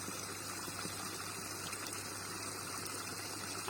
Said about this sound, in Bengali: এইভাবে ভর্তি করে দিচ্ছি জলটা